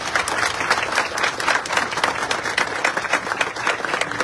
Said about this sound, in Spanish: Y muchísimas felicidades y un fuerte aplauso.